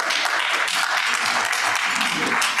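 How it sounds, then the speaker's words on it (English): Audience applause at a Rotary club meeting, a dense, loud, continuous wash of clapping from many people throughout. "Yeah, that's worth applause."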